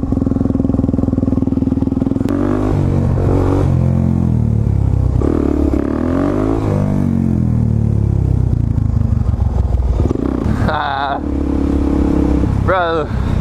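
Supermoto motorcycle ridden through a downtown area, its mid-pitched engine droning steadily with revs rising and falling, close and loud beneath someone talking almost continuously.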